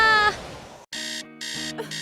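An alarm clock rings in loud electronic bursts that start and stop in a steady pulsing pattern, following a short voice at the start.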